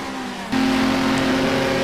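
Lotus Elan race cars roar on a circuit, the engine note jumping up sharply and then holding a loud steady drone as a car passes close by, with no talking.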